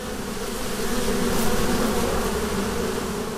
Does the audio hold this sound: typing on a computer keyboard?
no